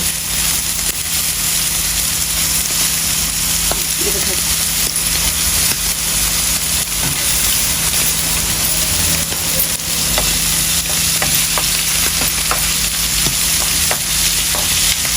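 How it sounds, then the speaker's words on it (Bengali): Onions fry in a pan on a large stove, giving a loud, unbroken sizzle with occasional stirring scrapes. Faint voices come and go beneath the frying. "তাই পেঁয়াজ ভাজি হতে থাকে আমাদের পেঁয়াজ ভাজি হয়ে গেছে"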